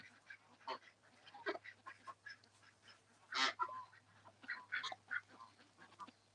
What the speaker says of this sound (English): She's quacking. Do you hear the quacks?